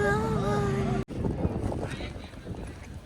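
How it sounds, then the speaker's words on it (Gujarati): A boat pulls away on the water at a sightseeing spot in Nasik, with a steady broadband engine and water rumble that takes over after a brief pause, while people talk nearby. "બોટિંગ ચાલુ થઈ ગયું છે."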